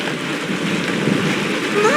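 Rain falls in a Honkai Star Rail game scene, a continuous soft wash of drops with a faint low rumble, with a voice briefly audible near the end.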